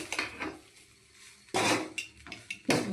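Egg rice and pepper being stirred in a pan, a metal spoon scraping and clanking against the pan in several sharp bursts with quiet gaps between them.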